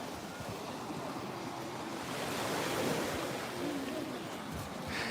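Baltic Sea surf on the shore at Zelenogradsk in the Kaliningrad region washes in a steady, broad roar, swelling slightly midway, with wind buffeting the microphone and no voices.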